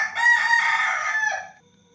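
A rooster crows at around four in the morning in Bali, one drawn-out cock-a-doodle-doo close by, trailing off into quiet.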